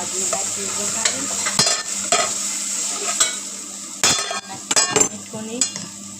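Leafy greens tempered and stirred in hot oil, a constant hiss of frying broken by repeated scraping strokes and clinks of a utensil against the pan, close and clear.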